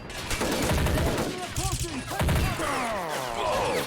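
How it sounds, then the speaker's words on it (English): Rapid gunfire exchange in a military video game, with machine-gun bursts and overlapping shots from several weapons, loud and continuous throughout with voices faintly under the firing. "Good exchange of fire."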